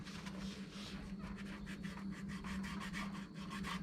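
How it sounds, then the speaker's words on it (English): Steady abrasive rubbing with a rhythmic back-and-forth scrape as a 3M sanding disc works the underside of a 1969 Firebird, close up and fairly even in loudness, no talking. "I got one of my 3M sanding discs that I might be able to get up there"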